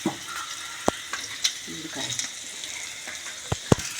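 Garlic fries in oil in a pan with a soft, steady sizzle, broken by a few sharp clicks and taps of a utensil against the pan at close range; a voice talks faintly underneath.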